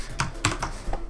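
Several computer keyboard keys are tapped in quick succession, three or four crisp, close clicks spaced unevenly over about a second.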